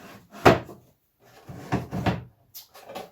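Wooden drawers slid in and out of a coffee table during a test fit, giving a few close, distinct knocks and scraping slides with short pauses between them.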